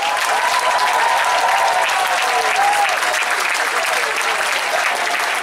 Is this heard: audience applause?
yes